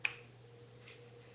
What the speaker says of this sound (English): Snap my fingers again,